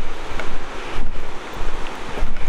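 Rushing water from Bryant Creek pours steadily under a trail bridge in the Rockies, a loud, broad wash with gusts of wind buffeting the microphone, and no one speaking.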